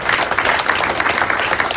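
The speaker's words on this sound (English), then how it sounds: "Round of applause for both of" A short burst of steady clapping from the crowd at a cricket club awards evening, dense and unbroken from start to finish.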